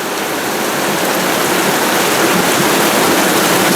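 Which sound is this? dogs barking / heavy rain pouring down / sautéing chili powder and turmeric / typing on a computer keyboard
heavy rain pouring down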